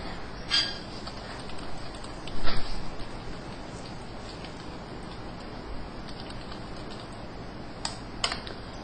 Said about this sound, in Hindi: मैं इस वक्त एक पहला टेक्स्ट टाइप करता हूं